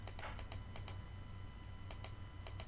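Keys on a computer keyboard clatter in short bursts of quick clicks, a cluster of taps, then a pause, then another run, close and fairly quiet over a low hum.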